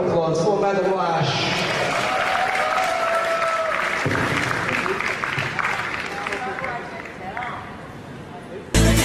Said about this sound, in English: Ladies and gentlemen, please, another round of applause for Madam Lash.